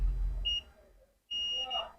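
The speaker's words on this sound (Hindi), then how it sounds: "अगर ये बीप कर दिया मतलब लो एलबीआर रजिस्टर है, लो वैल्यू रजिस्टर, इसलिए बीप कर रहा है" A multimeter gives continuity beeps while probing a low-value resistor on a laptop motherboard: two steady electronic tones, the first short, the second longer, close and clear with a quiet gap between.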